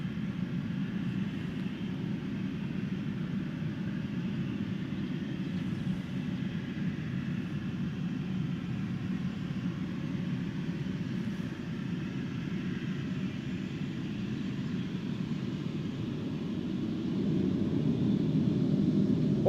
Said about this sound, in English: Embraer 190 to Inverness in the foreground. E2 Embraer to Dublin in the background.